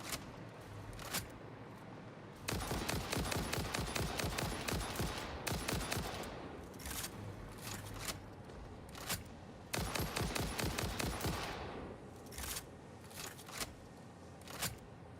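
Bursts of rapid automatic gunfire in a shooter video game come in several dense volleys separated by brief pauses, loud and close, with scattered single shots between them.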